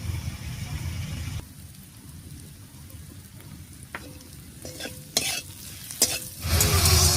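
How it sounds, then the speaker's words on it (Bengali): Ginger-garlic paste with cumin, coriander, salt and turmeric stirred in a hot pan for a pumpkin and red lentil dal: a loud sizzle burst, then softer frying with sharp spatula knocks and scrapes, close by. "সব মশলাগুলো দিয়ে নাড়িয়ে নিলাম"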